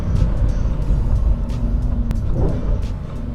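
Lamborghini STO engine downshifting, a loud, close, continuous low rumble and roar with a blip rising around the middle, heard from the car on the road near Beachy Head.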